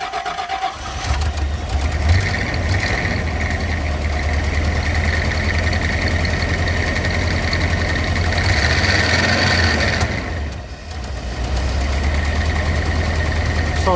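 A Rolls-Royce Silver Shadow II V8 runs steadily under throttle, a loud continuous low rumble that swells slightly and dips briefly near the end, heard alone without talk.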